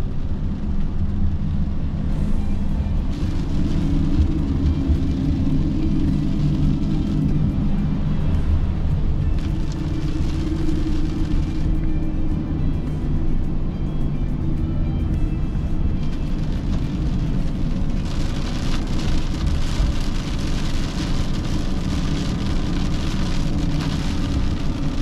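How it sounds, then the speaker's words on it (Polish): Steady rain falls on a vehicle driving along a mountain road, a constant loud hiss and patter that continues without a break, mixed with low road rumble. "Trochę się rozjaśniło, ale wciąż pada."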